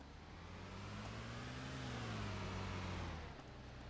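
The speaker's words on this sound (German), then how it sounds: "da höre ich Auto" Car engine in the ARMA II video game, a steady mid-distance motor drone that rises slightly in pitch and swells before easing off near the end, heard alone without talk.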